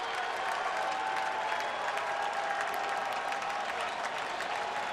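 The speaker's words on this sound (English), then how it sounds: "A lot of Redbird boosters made the trip from St. Louis, and they are cheering Matt Holliday right now." Cardinals fans at a Brewers ballpark cheer Matt Holliday's home run in a 2014 game. The crowd roar and applause stay loud and sustained throughout, with faint voices blended in.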